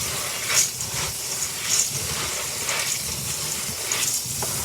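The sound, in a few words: water rinsing dry beans through a strainer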